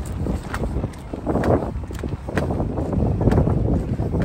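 Gusty wind buffets the microphone with a steady low rumble and rushing noise, loud and close throughout.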